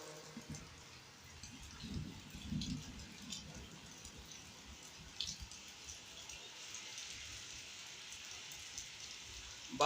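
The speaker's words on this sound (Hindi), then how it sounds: "बारिश बहुत ही शदीद हो रही है" Steady rain hisses down on surfaces, a dense, even wash of patter heard fairly quietly throughout, with a faint murmur briefly underneath.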